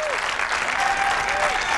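A bowling crowd at a professional championship cheering and applauding a strike, a loud continuous roar of clapping and shouts that fills the whole stretch, with a few whistles rising above it.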